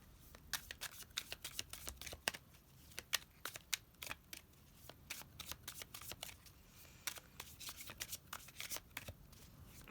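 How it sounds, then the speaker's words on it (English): Repeated crisp riffling bursts of tarot cards being shuffled, irregular rhythm of quick flutters and snaps, close and fairly quiet, with no talking. "feel free to fast forward through the shuffling if you'd like"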